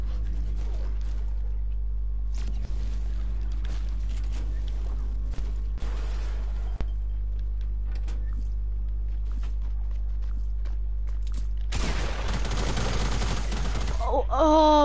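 Video game gunfire from a season 4 shooter, a loud sustained burst of rapid shots erupting near the end after a quieter stretch of scattered footsteps and faint sounds, with a voice briefly rising at the close.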